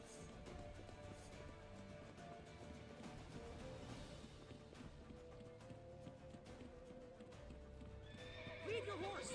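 Horse hooves clip-clop at a gallop in The Witcher 3, a steady rhythmic pounding over ambient game sound, ending in a loud neighing whinny near the close.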